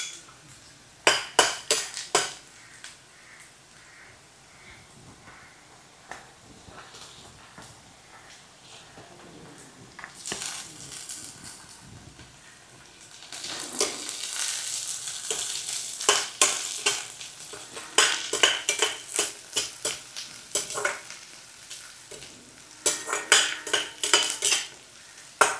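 Onions and green chilies frying for kothu parotta, with a steady sizzle broken by repeated clanks of a metal spatula against the pan. The clanking comes in busy bursts.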